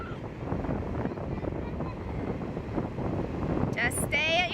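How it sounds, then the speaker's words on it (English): Strong wind at the beach buffets the microphone with a constant low, blustery rumble, and a brief high-pitched call rises over it just before the end. "It is super windy today, but they don't care."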